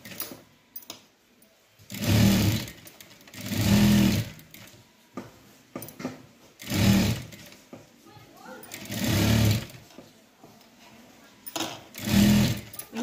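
A sewing machine stitches a blouse seam in several loud, steady running bursts separated by pauses, with someone speaking in between.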